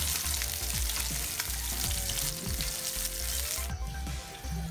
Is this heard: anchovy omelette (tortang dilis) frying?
yes